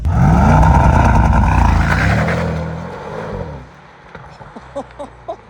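A Mercedes-AMG GT63 roars loudly as it accelerates hard, the engine note climbing through a sustained rising pull before fading away, followed by a few faint clicks and thumps.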